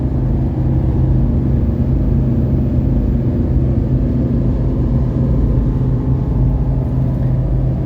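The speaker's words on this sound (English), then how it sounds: "This is one of the smoothest 300Ds I've ever ridden in" 1984 Mercedes 300D diesel car heard from inside while cruising on a desert road, a loud, constant low engine drone and road rumble with no breaks.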